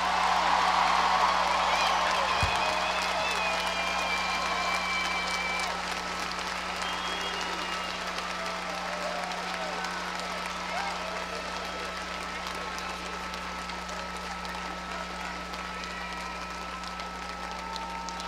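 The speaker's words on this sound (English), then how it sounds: "Can we give him another round of applause to thank him for the life lessons?" A large audience applauds at an ASU spring commencement ceremony, a dense, sustained wash of clapping that starts strong and tapers slightly while continuing to the end.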